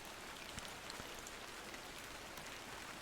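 Rain falling over foggy London in the video game Incantamentum, a faint, steady patter of drops on hard surfaces, with a few slightly louder individual drips and no voices.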